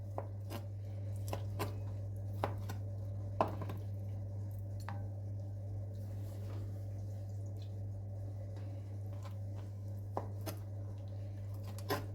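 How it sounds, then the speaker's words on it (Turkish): Soft, irregular knife taps on a board as chicken livers are chopped, with wet, squishy undertones, fairly quiet over a steady low hum. "Şimdi tavuk ciğerlerimizi de doğrayalım."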